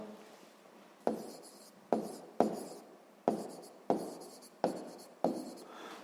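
Pen or chalk writing down an answer during a sixth-grade maths exercise on circle circumference, heard as a series of about eight sharp strokes, each starting with a tap and trailing off in a scratchy rub, close and alone.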